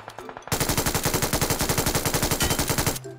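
Rapid automatic gunfire from PUBG Mobile, a dense sustained burst of shots lasting over two seconds, loud and close, with no talking over it.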